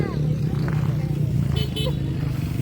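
A motorcycle near a group of riders in full gear, its engine idling and purring steadily under lively chatter, with brief tonal honks or toots partway through.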